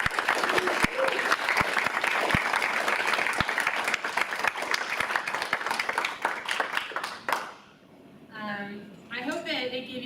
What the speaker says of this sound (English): Could we get another round of applause for all of us?